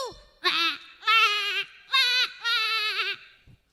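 A mimicry artist voices a goat's bleating: four loud, wavering bleats in a row, each about half a second long, heard alone and up close with no talk.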